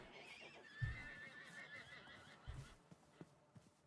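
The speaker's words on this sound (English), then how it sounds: "the horse was taking damage" Horse hurt sounds in the Minecraft video game: a faint, drawn-out whinny with a couple of soft low thumps, quiet under a noisy background.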